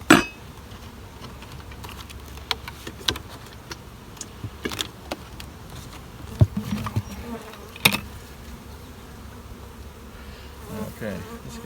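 Honey bees buzz around an open hive during a dearth, a dense steady drone of many wings with scattered close fly-by buzzes and faint clicks of hive parts.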